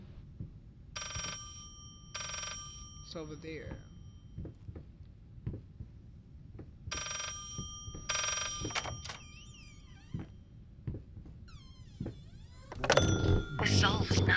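An old telephone rings in the horror game Layers of Fear, two pairs of shrill electronic ring bursts separated by quiet, with eerie tonal sweeps and clicks between them and a brief spoken line.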